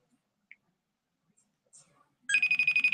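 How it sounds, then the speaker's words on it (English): A phone call rings out while waiting for someone to pick up, a steady run of rapid electronic ringtone pulses that starts suddenly after near silence and stays loud and close to the end. "Let's see if he picks up the phone."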